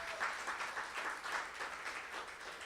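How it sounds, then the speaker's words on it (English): Crowd applauding storytellers at the end of a live storytelling show, a steady patter of many hands clapping with gentle pulsing swells, fairly close and unbroken. "How about one more round of applause for the storytellers tonight?"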